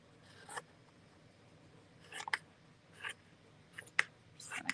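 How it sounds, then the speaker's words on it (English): Scissors snipping through craft material to cut squares, a few brief crisp cuts spaced out over a quiet background. "So I'm going to take and cut some squares."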